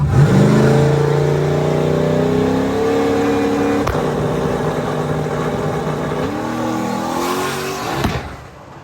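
A yellow single-turbo 2001 Mustang drag car, known as Last Penny, pulls away hard with a loud rising engine drone that climbs through gears, briefly dips at a shift, then swells again before fading at the end.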